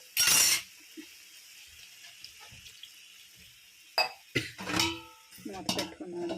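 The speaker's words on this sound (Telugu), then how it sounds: "మూత పెట్టుకున్నాను." A metal lid clatters onto a cooking pot of small-fish curry in a home kitchen: a sharp clang at first, then a few lighter knocks and scrapes further on, with quiet pauses between.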